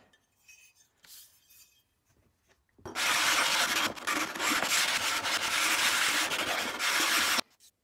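A Samson block plane's metal sole is rubbed back and forth on 120-grit abrasive, making a loud, steady, gritty rasping that runs for several seconds after a few faint scrapes and taps.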